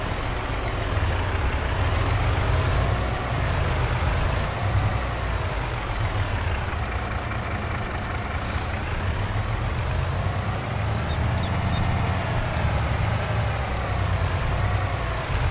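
A truck engine rumbles loud and close in Farming Simulator 22, its revs rising and falling in slow waves, with a hiss of air brakes around the middle and faint reversing beeps; no one speaks.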